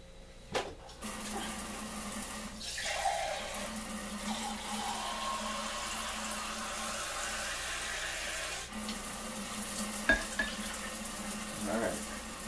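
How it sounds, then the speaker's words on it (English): Water running steadily from a tap or being poured into a container while making homemade paper from plant mash, a continuous close splashing flow lasting several seconds with a few brief clunks and knocks, no talking. "put a little bit more water in here as well"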